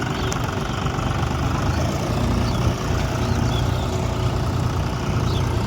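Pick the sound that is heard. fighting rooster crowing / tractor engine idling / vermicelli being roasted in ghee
tractor engine idling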